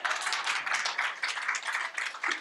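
An audience at a talk in Sharjah applauds, a steady wash of many hands clapping close by for a couple of seconds, fairly loud and without voices.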